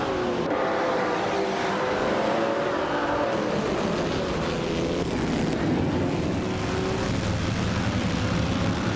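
Race cars roar around the Imola Retro track at the start of a race, including a 1938 Maserati 8 CTF Grand Prix car, a continuous loud engine drone with changing pitch and no talk.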